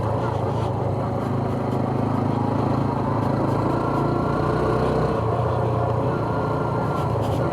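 A Honda CT125 motorcycle engine runs on a muddy ride, a steady low drone with a constant rumble and no clear revving or pauses, heard close throughout.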